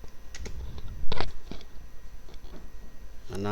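A few quick keystrokes tap on a computer keyboard nearby while a name is entered, with a faint voice starting to speak at the end.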